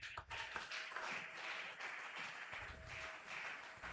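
Congregation applauding for Jesus at an Easter prayer and fasting marathon, steady dense clapping filling the room for several seconds with scattered cheers and a brief voice above it.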